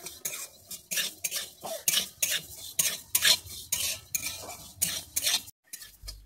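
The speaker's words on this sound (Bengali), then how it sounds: "যতক্ষণ না মুগের ডালটা লাল হয়ে যায় আমি ততক্ষণ মুগের ডালটা ভাজতে থাকবো।" Moong dal is dry-fried in a wok, a spoon scraping and stirring in quick, regular strokes up close, each scrape loud and bright, with a brief pause near the end.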